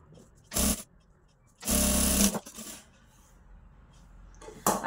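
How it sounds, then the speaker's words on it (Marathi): A sewing machine stitches a blouse in short, loud mechanical bursts separated by quiet pauses, each burst a rapid whirring clatter, with faint background noise between runs. "आता खाली आपल्याला दाब शिलाई द्यायची आहे."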